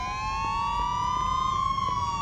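A police car siren wails steadily and continuously during a chase in the video game Mafia II, holding a loud, rising and falling tone over a low rumble of engine noise.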